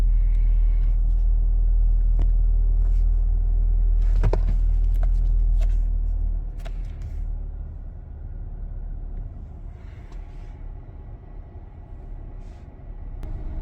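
A Skoda Kodiaq engine starts and idles steadily with a low, loud rumble, and a few sharp mechanical clicks and knocks sound close by over it.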